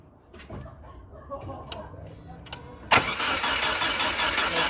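A Subaru Forester STI being built up is cranked while failing to start: faint ticks and clicks, then the starter motor whirs loudly and steadily without the engine catching.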